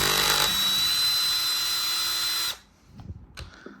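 A power driver fitted with an 8mm socket unscrews the nuts holding an Audi airbag cover, giving a steady close whir for about two and a half seconds before it stops, followed by a few faint handling clicks.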